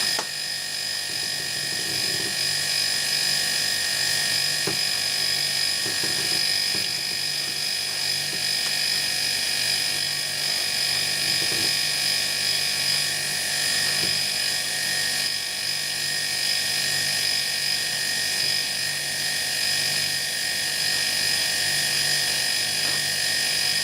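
An air compressor runs steadily and loudly throughout, a constant mechanical drone with a high whine as it builds pressure, heard alone without talk.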